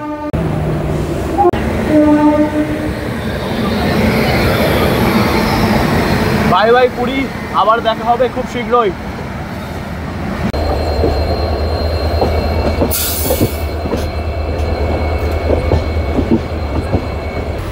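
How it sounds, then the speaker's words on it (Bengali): Shalimar Weekly Superfast Express (12896) pulling out of platform 3 at Puri station, heard from inside a general-class coach: a steady low rumble of the rolling train, with someone speaking over it and brief clatter. "আমাদের ট্রেন ছেড়ে বেরোচ্ছে পুরী স্টেশনের 3 নম্বর প্ল্যাটফর্ম থেকে।"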